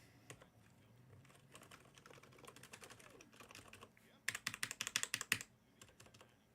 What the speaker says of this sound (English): Now these keys are still making noise, but not as much as that